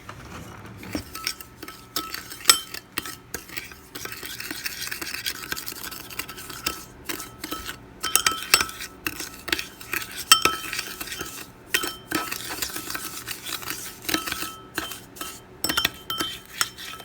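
Spoon stirring a coconut oil and sugar mixture in a bowl for homemade skin care, steady scraping with frequent clinks against the bowl, close and continuous.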